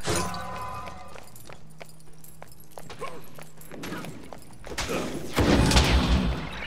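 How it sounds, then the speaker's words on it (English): Gunfire at minions in the game Smite: a run of sharp, evenly spaced shots and cracks over faint game music, building to a louder burst of impacts near the end. "They're just shooting some minions."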